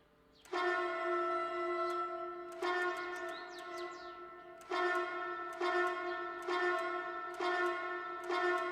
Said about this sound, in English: Does the bell work? I'm sure it does.